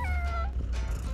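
A cat meows inside a racing video game, a couple of clear tonal calls over a steady low engine-like hum with no talk.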